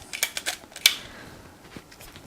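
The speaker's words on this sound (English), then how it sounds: "And this is the sound of the Pen F." Olympus Pen F half-frame camera shutter firing, a series of small, light mechanical clicks and ticks close up, with one sharper snap in the middle, then fading into quiet room tone.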